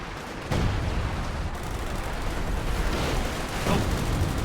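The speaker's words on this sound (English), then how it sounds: "Oh, multiple airburst rounds here." Airburst artillery rounds detonate in Company of Heroes 2 as heavy booms over a constant rumbling battle din, with a sharp blast near the start and another toward the end.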